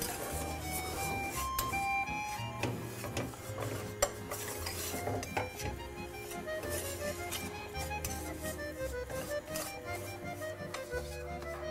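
Pancetta fettuccine sauce being stirred in a pan, with steady scraping and clinks of a utensil against the cookware and a soft sizzle running continuously throughout, close and moderately loud.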